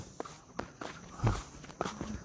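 Footsteps of a senior monk walking up a mountain trail on a pilgrimage: several soft, evenly spaced steps at moderate distance, with one heavier footfall midway and a faint background hum.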